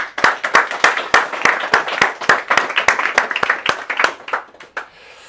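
An audience at a tech meetup talk applauds a presenter with a run of crisp, close hand claps that stays steady for several seconds, then thins out and fades at the end.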